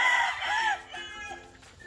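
A gamefowl rooster at a game farm crows loudly and close, one long drawn-out call that fades into softer trailing notes, with other birds faint behind it.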